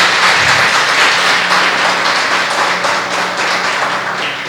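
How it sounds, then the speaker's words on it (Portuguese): Church congregation applauding during an evening service, a dense, loud, continuous wash of many hands clapping together that holds steady and tapers slightly toward the end. "Você pode aplaudir a Jesus essa noite, essa manhã?"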